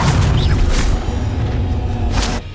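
A Confringo blasting spell explodes in the Hogwarts Legacy video game, a loud booming burst with sustained low rumble and a second crackling flare near the end, set against dense battle noise.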